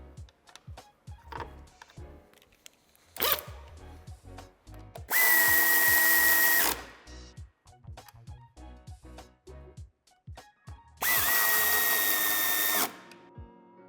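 A power tool fastens a nut while a tow hitch is fitted to a 2020 SEAT Leon IV ST. Two loud, sustained bursts of whirring stand out, close up, between quieter clicks and taps, with no talking.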